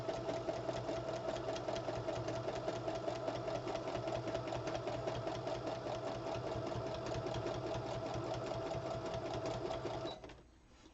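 A sewing machine runs a serpentine stitch in one steady, fast mechanical whir with a rapid needle rhythm, close and continuous for about ten seconds before stopping abruptly.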